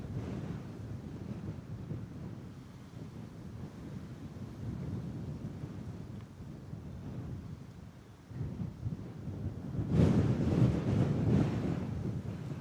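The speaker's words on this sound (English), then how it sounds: "Whoa, that wind, man." Strong gusting wind at Bristol Airport buffeting the microphone, a low continuous roar that surges loudly near the end.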